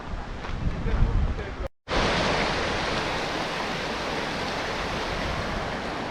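A river flowing near Thredbo in the Australian alps gives a steady broadband rush of water, constant and fairly close, broken by a brief dropout before resuming evenly.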